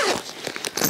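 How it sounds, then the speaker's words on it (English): The top zipper of a bag with straps is pulled open in one quick, close, continuous rasp lasting under a second. "The top zipper"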